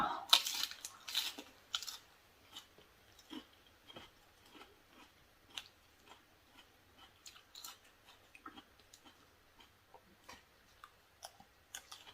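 Food is chewed slowly and carefully in soft, faint, close crunches and clicks, loudest at the start, then spaced out and quieter.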